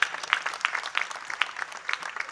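A kirtan audience claps in a thin, scattered way, only a few hands heard at a moderate distance, uneven and short.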